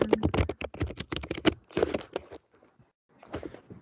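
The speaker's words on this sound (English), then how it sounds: "Hearing like the typing is like very satisfying though." Rapid clatter of typing on a computer keyboard, close and fairly loud, with dense bursts of keystrokes that pause briefly before a softer run resumes.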